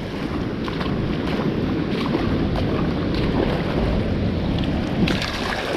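Ocean swell and waves wash around a small fishing boat, a steady broadband rush mixed with wind buffeting the microphone, with no talk.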